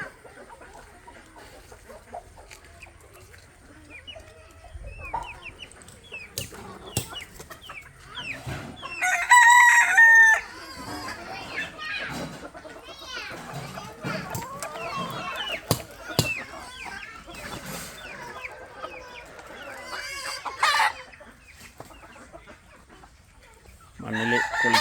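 Chickens cluck and a rooster crows amid a busy farmyard din, with scattered clucks and squawks throughout and a louder burst around the middle.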